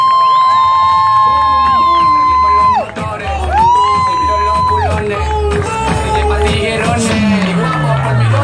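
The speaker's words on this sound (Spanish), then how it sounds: "que se sienta fuerte el aplauso para Pedro Santana" Crowd cheering and whooping at an amateur motorcycle speed race in Santo Domingo, loud and close, with an announcer's voice and music running over the shouts.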